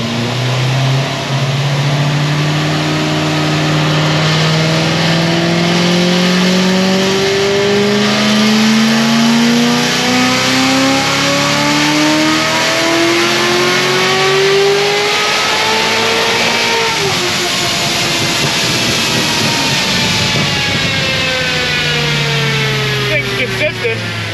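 A car runs a dyno pull on pump gas, its engine revving loud and close in long rising sweeps, easing briefly and then climbing again, a continuous roar throughout.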